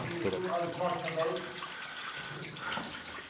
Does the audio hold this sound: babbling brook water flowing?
yes